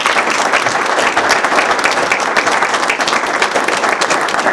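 Audience applause at a Norristown municipal council meeting, honoring a longtime official's wife and sons: sustained, dense clapping from a roomful of people, loud and even for several seconds.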